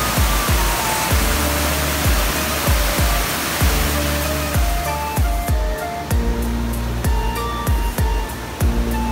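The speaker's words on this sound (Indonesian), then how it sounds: "Di antara bebatuan tersebut terdapat aliran air terjun." A tiered waterfall pours between small and huge rocks in a river valley near Bogor, a loud, steady rushing roar with rhythmic low thuds running through it.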